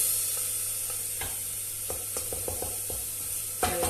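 Whole spices fry in hot oil in a pan with a steady close sizzle, while a spoon scrapes and taps the pan in several short strokes; no one speaks.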